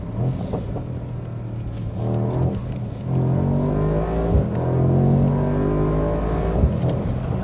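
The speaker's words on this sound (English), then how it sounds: "I love the sound that V8 engine really makes." A deep V8 engine of a Mercedes-AMG SL55 sports car revving and rumbling, rising through the gears with loud, close throaty tones and brief shifts between pulls.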